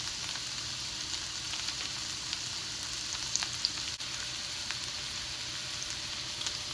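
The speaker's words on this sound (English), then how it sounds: "hearing that sizzle when you first put your food in" Food sizzles in hot oil in a pan at home, a steady, dense crackling hiss with occasional sharper pops, close and continuous throughout.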